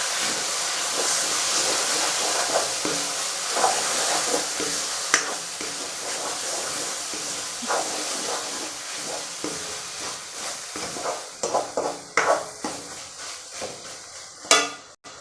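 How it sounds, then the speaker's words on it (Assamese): Meat masala, red chili powder and garam masala frying in a pan for paneer masala: a steady hiss and sizzle with scattered stirring clinks that grow busier and sharper toward the end. "এতিয়া এইখিনি ভালদৰে মিক্স হোৱালৈকে মই ভাজি ল'ম।"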